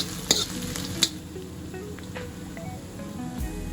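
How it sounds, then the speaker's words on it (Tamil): Steady sizzling of spices frying in a pan as tempering for a cauliflower fry, with a couple of sharp clinks as a spoon stirs and scrapes; no talking. "நல்லா ஃப்ரை பண்ணிக்கோங்க."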